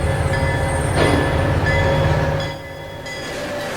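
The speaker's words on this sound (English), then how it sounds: "the measurement of the vibration caused by a train passing on a small bridge" Train rolling over a small bridge, a loud close rumble of wheels on rails with ringing metallic squeal tones, steady at first and then dropping in level as the cars pass, no speech.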